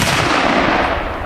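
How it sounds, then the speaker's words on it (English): A single gunshot fired at a target on an outdoor shooting range cracks loud and close, followed by a brief rolling echo. "Larry, you shooting high left, dude."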